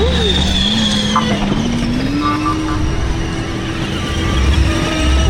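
A car driving off fast near a beach at evening, its engine note droning and rising steadily, loud and close at first, with faint voices in the background.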